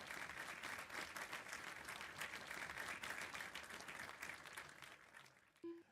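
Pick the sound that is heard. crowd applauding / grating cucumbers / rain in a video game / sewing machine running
crowd applauding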